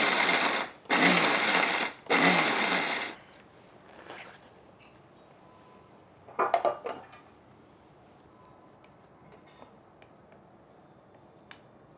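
Mixer grinder run in pulse mode on a batch of ingredients: two loud whirring bursts about a second each with a short break between, followed by quieter rattling and clinking of the jar.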